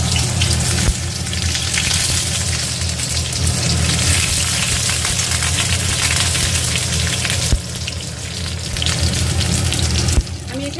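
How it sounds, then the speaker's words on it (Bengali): Chopped onion and two green chillies frying in hot mustard oil give a steady, close, continuous sizzle with faint crackle throughout, and a couple of brief clatters. "সর্ষের তেলটা কিন্তু অলরেডি গরম হয়ে গেছে আমি এখানে দেব দেখো কুচনো পেঁয়াজ কিছু কুচনো পেঁয়াজ এবং দুটো সবুজ কাঁচা লঙ্কা"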